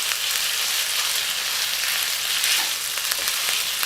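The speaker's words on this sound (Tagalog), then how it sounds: "Stir fry lang po natin to." Pork stir-frying in very hot oil, a loud, dense and constant sizzle filling the space close up, with a few faint stirring clicks and no talk.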